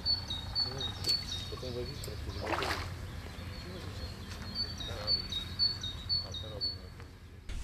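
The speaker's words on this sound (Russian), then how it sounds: "птички поют, природа." Birds sing faintly around a wild reedy pond in spring, with high, thin chirps scattered over a quiet outdoor background of low rumble.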